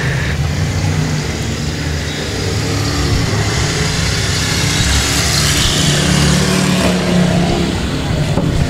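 Dirt race car engines at Ark-La-Tex Speedway, a steady loud drone of several cars circling the track with continuous rumble and rising revs, mixed with crowd or commentary noise.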